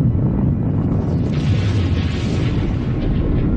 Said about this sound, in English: The explosion blasts the shuttle free.